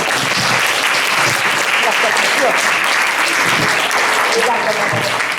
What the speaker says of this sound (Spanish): quiero agradecerle un aplauso